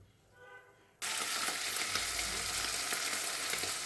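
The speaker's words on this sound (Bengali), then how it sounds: "মাছটা আমি এইদিকে ভেজে নিচ্ছি" Small kachki fish frying in hot oil for an onion chorchori: after a second of near quiet, a loud, dense sizzle bursts in and crackles on steadily, close up, with no talk.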